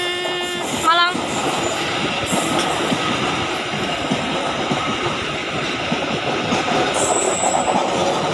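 Close and loud, the Brawijaya passenger train to Malang passes with steady wheel clatter and rumble, plus a brief squeal or horn-like tone near the start.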